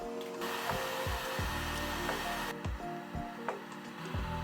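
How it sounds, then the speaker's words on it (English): A heat gun blows steadily over a metal motorcycle part just rinsed after acid rust removal, a faint continuous whooshing hiss with a few light clicks and knocks, the airflow shifting in tone partway through. "Dried it quickly with a heat gun."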